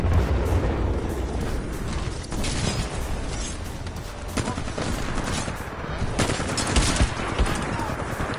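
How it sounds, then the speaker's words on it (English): Mozambique shotgun fire in the video game Titanfall comes as repeated bursts of loud gunfire. Several sharp shots and mechanical clatter sound over a busy, noisy battle. "I think that guy's using a Mozambique. I saw him shoot at me too."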